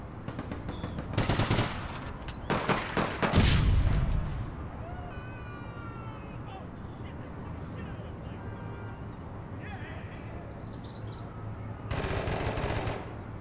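Rapid machine gun bursts crack out loud and close in the shooter game APB Reloaded, several volleys in the first seconds and another burst near the end, with talk in between.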